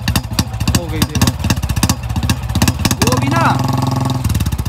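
A Royal Enfield Bullet motorcycle engine, already warm, runs at idle with a steady, loud, rhythmic thump and a short rise in revs partway through, while someone talks over it nearby.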